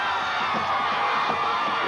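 A Lebanon Warriors home crowd of about 7,000 at Galbraith Field cheers and whoops during a 1997 high school football regional final, a dense, loud, continuous roar.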